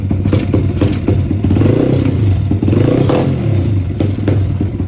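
An SSR YX140 pit bike engine runs close and loud after an air-fuel mixture screw adjustment, a rough, rattling idle rising into throttle blips with mechanical clatter throughout.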